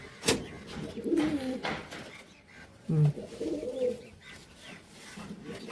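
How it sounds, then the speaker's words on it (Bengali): Rajshahi local Giribaj pigeons coo in a few soft, rolling bursts close by, with a louder coo near the end and a voice talking faintly in the background. "এটা রাজশাহীর লোকাল গিরিবাজ কবুতর"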